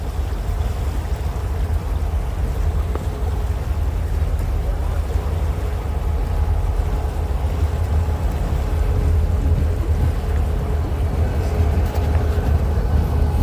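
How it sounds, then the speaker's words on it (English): A train passing by a riverbank in downtown Anchorage, a continuous loud low rumble and rolling clatter that holds steady for over ten seconds, with faint voices in the background. "Here comes a train again, so it's going to get loud for a second."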